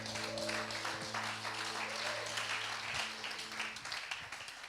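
A church congregation at a French-speaking worship session claps for the worship team, steady applause over a sustained musical drone that fades out near the end.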